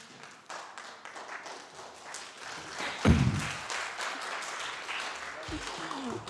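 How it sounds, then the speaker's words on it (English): An audience at a winter school lecture gives scattered, modest applause for a professor, with some claps and thumps close by and a short louder burst near the middle. "A round of applause for Prof."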